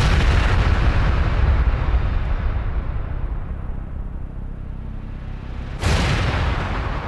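Bombs exploding in Vietnam War footage make a loud, continuous rumbling roar of blasts that slowly fades, then a fresh heavy explosion strikes near the end.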